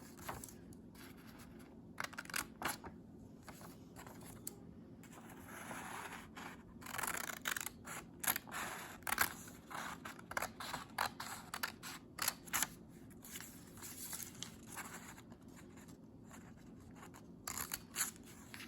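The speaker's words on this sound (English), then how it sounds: "I'm going to cut out the rest of my pieces and I'll meet you back" Scissors cutting out paper pieces for a school model of the Earth's rotation: quiet close snips and paper rustles in irregular clusters over a faint steady background hiss, with no talking.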